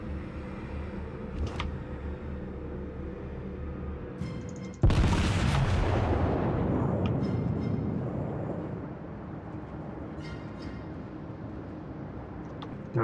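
A single huge boom from warship main guns in World of Warships, sudden and loud, followed by a long rumbling decay over steady engine and ambient drone.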